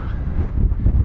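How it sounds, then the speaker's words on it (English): Strong wind gusts buffet the microphone on a desert hike near Shoshone, California, a loud low rumbling roar that swells and pulses without any voices. "Big gusts."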